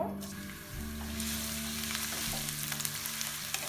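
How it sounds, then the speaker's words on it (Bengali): Chopped onions drop into a generous amount of hot oil for vegetable macaroni and give a sudden, continuous sizzle close up that crackles steadily, with a low hum underneath. "এখন পেঁয়াজ কুচি দিয়ে দিব"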